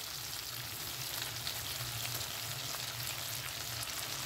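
Garlic fries in hot oil in a home kitchen pan, a soft, even sizzle with faint crackle running throughout at a fairly low level, with no voices.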